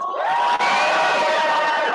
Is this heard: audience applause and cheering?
yes